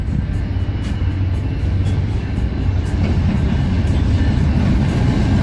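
A loud, steady low rumble and rattle of a freight train rolling past close by, continuous throughout with faint squeaks of wheels.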